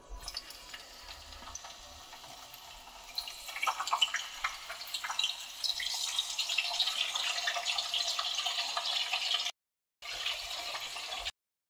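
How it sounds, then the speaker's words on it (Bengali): Cauliflower pieces fry in hot oil, a soft crackling sizzle that builds and stays steady, broken by a brief silent gap. "এবার আমি সবজিগুলোকে এক এক করে ফ্রাই করে নেব।"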